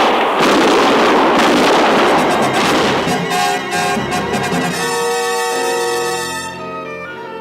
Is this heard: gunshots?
yes